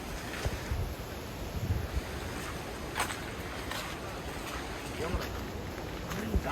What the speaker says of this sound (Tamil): காற்று சூப்பராக அடிக்குது வாசி.